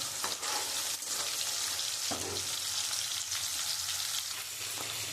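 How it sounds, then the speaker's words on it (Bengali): Fish frying in oil in a kadai for a fish curry, a steady close crackling sizzle that carries on without a break, with a few light clicks of a utensil and no talking. "আমি মাছটা ভাজা বসিয়ে দিয়েছি"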